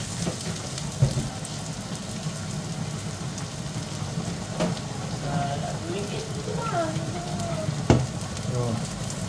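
Garlic sizzles loudly and steadily in a hot frying pan as chicken tinola is started, a dense crackling hiss with occasional utensil clinks, while voices talk faintly in the background.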